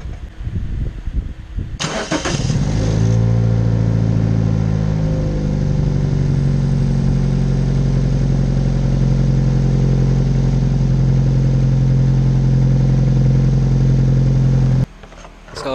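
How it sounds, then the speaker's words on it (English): A Perodua Myvi 1.3 engine with a freshly replaced drive belt cranks and catches after a short stretch of clatter, then idles steadily and loudly up close for over ten seconds before cutting off. "Let's fire up the engine and see how the belt goes."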